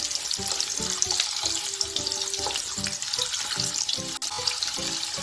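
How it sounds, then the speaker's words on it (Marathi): Potato pieces for dhaba-style dum aloo shallow fry in oil, giving a loud, steady, close sizzle with crackling throughout and no voices. "आता हे चांगल्या प्रकारे आपल्याला फ्राय करून घ्यायचे आहेत आलू चांगला ब्राऊन कलर येईपर्यंत आपल्याला बटाटे फ्राय करून घ्यायचे आहेत"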